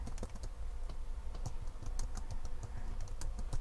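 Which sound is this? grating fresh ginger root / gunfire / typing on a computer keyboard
typing on a computer keyboard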